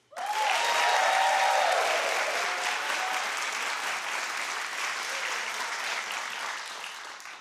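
Studio audience at The Wendy Williams Show bursts into clapping, rising quickly to a loud peak with a few whoops, then a long, even wash of applause slowly tapering toward the end.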